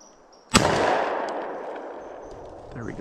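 A single sharp gunshot cracks out while hunting grouse in a forest, loud and close, followed by a long fading echo through the trees.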